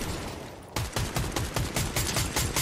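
Rapid gunfire bursts in the video game Helldivers II, a loud close fusillade of regularly spaced shots after a brief noisy lead-in.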